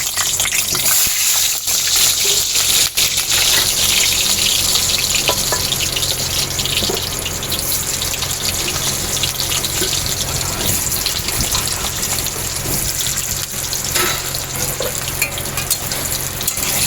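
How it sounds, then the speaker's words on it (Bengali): Loud, dense sizzling of potatoes frying in hot oil, a continuous crackling hiss with occasional stirring scrapes and no talking. "তেল গরম হয়ে গেছে, এবার আমি আলুগুলো ভেজে নেব"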